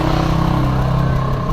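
A 2017 Suzuki Ertiga engine idles roughly with a misfire, a loud close-up drone carrying an uneven, shaky pulsing rhythm and faint clatter.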